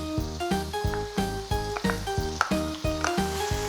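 Pancit canton protein ingredients being sautéed in a pan right after oyster sauce goes in, a steady close sizzle with repeated scraping stir strokes in a regular rhythm, no voices.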